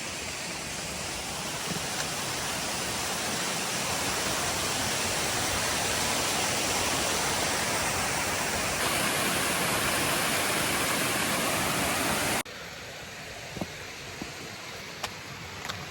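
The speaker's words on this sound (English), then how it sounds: "I hear a waterfall, so camera's coming on." A waterfall on a hiking trail with snow and ice about, giving a steady, loud, broadband rushing roar that fills the whole stretch and drops to a somewhat quieter, thinner wash near the end.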